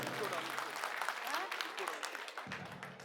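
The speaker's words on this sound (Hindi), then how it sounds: "तालियां अपने लिए बजा लीजिए।" A rally crowd in Janakpuri, Delhi breaks into dense, sustained applause and cheering, loud and continuous throughout, with voices mixed in underneath.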